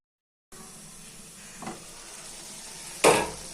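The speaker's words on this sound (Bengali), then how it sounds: "আমি এটাকে এখন লোতে করে ঢাকনা দিয়ে রান্না করব" Egg curry made with boiled or fried eggs cooks on low heat under a lid, giving a soft steady simmering hiss after a moment of silence, broken by a faint clink and then a louder clatter at the end.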